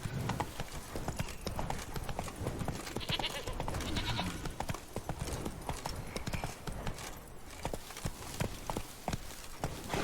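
Roach the horse gallops in The Witcher 3: Blood and Wine, dense rapid hoofbeats pounding throughout, close and steady, with some ambient game sound mixed in.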